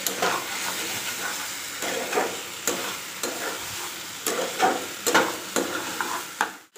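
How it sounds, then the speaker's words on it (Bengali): Spices sizzle in a pan as they are sautéed and stirred. A spoon scrapes through them in repeated strokes every second or so, close and fairly loud over a constant frying hiss. "এদিকে মশলাগুলো করে ভালো করে কষিয়ে নেবো।"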